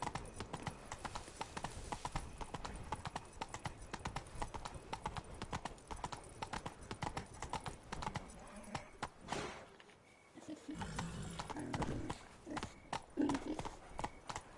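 Roach the horse galloping in The Witcher 3: Blood and Wine, rapid rhythmic hoofbeats clip-clopping continuously and close, with a brief pause near the end before the pounding resumes, under faint game sounds.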